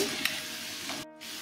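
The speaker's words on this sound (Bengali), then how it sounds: "লাল লাল করে ভাজছি" Khasta gaja dough fries in hot oil with a loud, steady sizzle, close up, briefly interrupted by a short gap before the crackling resumes.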